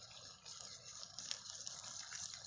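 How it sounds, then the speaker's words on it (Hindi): Irrigation water flows steadily through a young mustard field, a faint, continuous outdoor rushing with no voices. "ये देखो जैसे ये पानी चल रहा है, ये पानी दिखाई दे रहा है आपको"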